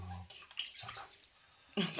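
Water runs and splashes as a spitz puppy is rinsed in a sink, faint and intermittent, with soft gurgling and a louder splash at the end.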